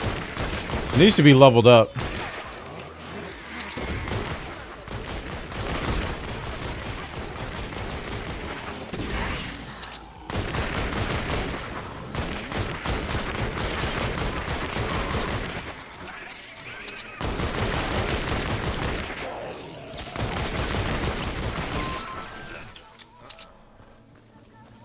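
Gunfire from a new gun in Fortnite: Save The World, played on PC: bursts of shooting and explosive impacts come in long dense stretches separated by short gaps, with someone talking over part of it.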